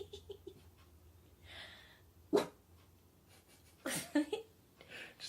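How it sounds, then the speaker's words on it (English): A dog indoors gives a few short, sharp barks and snorts in separate bursts, with quiet breathing and stillness between them. "No barking. No barking."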